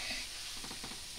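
Vegetarian food frying in a hot pan gives off a steady close sizzle, with faint stirring or scraping sounds in the background and no voices.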